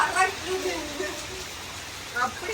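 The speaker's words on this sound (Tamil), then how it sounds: "வெளியால மழையெல்லாம் அடிச்சு ஊற்றுது" Heavy rain pours outside during a storm that hit a village, giving a steady wash of hiss beneath a person talking close by.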